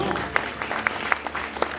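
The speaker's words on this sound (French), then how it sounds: "déjà on peut l'applaudir" Brief applause from an audience at a Miss Petite de France pageant, scattered distinct claps over a low murmur, moderately loud and short-lived.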